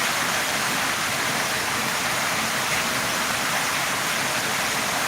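Heavy rain pours down in a dense, continuous hiss, loud and close, with no voices heard.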